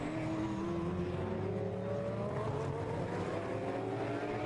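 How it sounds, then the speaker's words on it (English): GT race car at the Navarra circuit sweeping past at steady distance, a sustained engine drone with slowly shifting pitch, moderately faint. "towards the completion of the lap now comes the leading car, Nico Verdonk."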